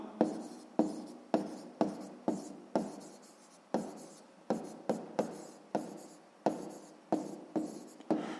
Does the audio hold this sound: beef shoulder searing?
no